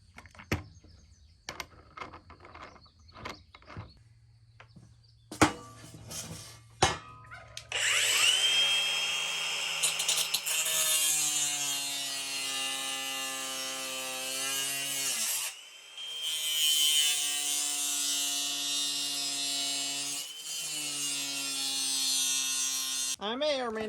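A power tool cutting metal pieces at right angles for welding, with a loud sustained whining, grinding cut that runs for several seconds, pauses briefly and resumes, preceded by scattered clanks and knocks of handling metal nearby.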